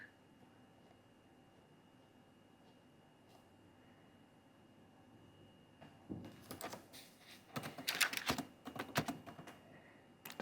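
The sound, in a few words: typing on a computer keyboard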